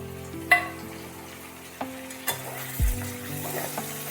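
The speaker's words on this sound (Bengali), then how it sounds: "এবার আমি এর মধ্যে দিয়ে দেব এইভাবে ছোট ছোট করে কেটে রাখা টমেটো" Chopped tomatoes dropped into a pan of eggplant curry, frying with a low sizzle, broken by a few sharp clinks and scrapes of a spoon against the pan.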